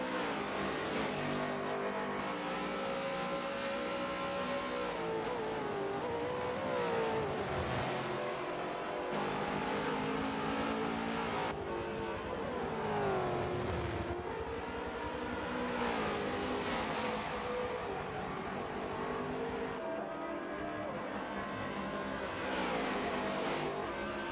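Supercars race cars thunder past at Watkins Glen, with continuous loud engine roar, rising and falling revs, and gear changes as cars pass one after another.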